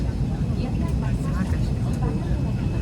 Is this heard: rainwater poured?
no